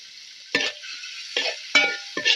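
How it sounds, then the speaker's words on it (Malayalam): Green chilies, ginger and curry leaves sizzle in hot oil in a pan, a steady frying hiss broken by four short bursts of stirring scrapes and crackles. "പച്ചമുളക് ഇഞ്ചി എല്ലാം തട്ടിയിടാം കറിവേപ്പിലയും കൊടുത്തു കൊടുക്കാം"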